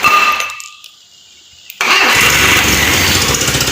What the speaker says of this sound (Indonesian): kita di sini akan menghidupkan mesin lagi